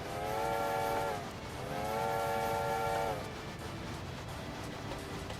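A steam locomotive whistle in a train video game blows two long harmonic blasts, the second after a short pause, over steady rumbling track and engine noise that continues alone afterward.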